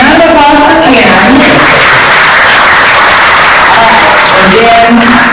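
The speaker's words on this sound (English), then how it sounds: "round of applause for Ken" A roomful of Rotary club members gives a loud, continuous round of applause for Ken, a past president, with voices mixed into the dense clapping throughout.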